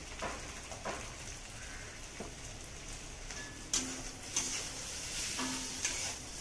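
Potatoes with salt and turmeric fry softly in a pan for a potato curry, a faint sizzle under a few light scraping stirs and occasional clinks, close but quiet.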